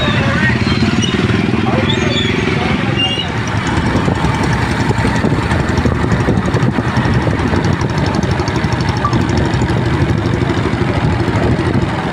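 Many motorcycle engines roar and idle together in a farmers' motorcycle rally in Punjab, a loud, dense, unbroken rumble throughout, with voices faintly mixed in.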